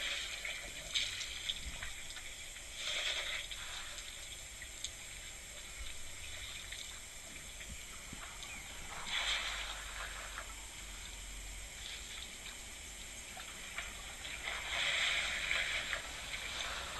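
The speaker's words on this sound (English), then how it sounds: "We're just quietly listening to our elephants drinking" Elephants drink at a game reserve waterhole: soft, distant gushes and splashes of water come in bursts every few seconds over a quiet outdoor background, with no voices.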